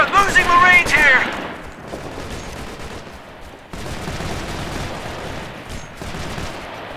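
Gunfire rattles through a firefight in the military shooter game Operation Flashpoint: Red River, dense sustained shooting filling the clip, with a brief shouted voice at the start.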